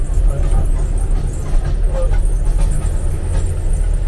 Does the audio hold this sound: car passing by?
yes